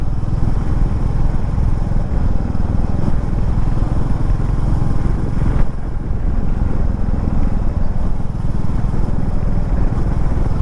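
Motorcycle engine on a normal city ride, a steady loud low rumble with constant wind and road noise and no clear speech.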